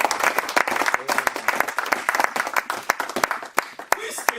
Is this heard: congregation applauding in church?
yes